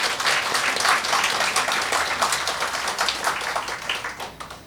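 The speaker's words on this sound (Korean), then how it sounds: "우리 뜨거운 박수로 환영하겠습니다" A church congregation claps warmly to welcome newcomers, a steady wash of many hands sustained for several seconds, moderately loud and slowly thinning toward the end.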